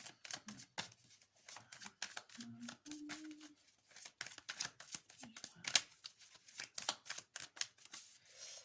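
Tarot-style cards being drawn and shuffled for a horoscope reading, giving a run of quick, soft papery slaps and flicks at close range, with a few brief murmured words in between.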